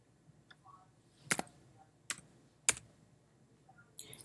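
Someone types a short number on a computer keyboard, a few distinct, sharp key clicks spaced apart with quiet gaps between them and no talking.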